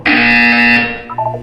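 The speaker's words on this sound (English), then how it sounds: "When you hear the buzzer, look up at the ceiling" A loud electronic buzzer from the video game Portal 2 sounds during a physical wellness exercise. It gives one harsh, steady tone for just under a second, then trails into a softer, broken tail.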